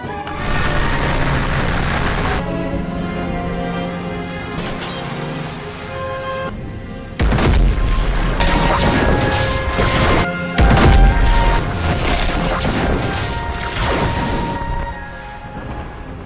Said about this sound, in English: he then obliterated the rest of the Mechagodzilla city with 2 shots of his atomic breath